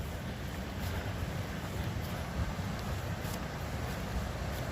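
Floodwater from a rainstorm rushes over a golf course in a constant, broad roar like a waterfall, loud and unbroken, with wind buffeting the microphone.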